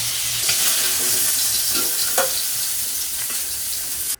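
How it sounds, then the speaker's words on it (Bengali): Bele fish (sand goby) frying in hot oil, a constant loud sizzle and crackle with occasional sharper pops, no voices. "মাছ ভাজতে দিয়েছি"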